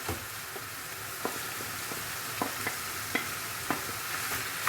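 Chopped onions frying in a pan with browned minced meat for içli köfte make a steady close sizzle, broken by soft irregular stirring clicks and scrapes.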